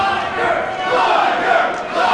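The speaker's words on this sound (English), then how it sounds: "the crowd is excited to see Jushin Thunder Liger" A wrestling arena crowd roars and cheers steadily for Jushin Thunder Liger's appearance, a dense, loud wall of voices sustained throughout.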